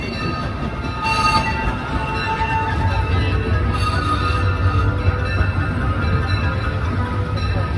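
Disneyland Railroad train rolling along its track near Tomorrowland Station, a steady low rumble of wheels and carriages with faint squeals, continuous and fairly close throughout.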